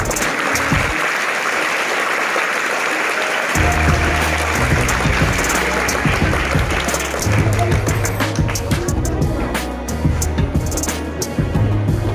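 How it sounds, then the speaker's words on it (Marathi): Students applaud at a retirement felicitation ceremony for a teacher. The loud crowd clapping runs throughout, with sharper individual claps and some thumps and bustle joining partway through. "विद्यार्थ्यांनी जोरदार टाळ्या वाजवायच्या आहेत."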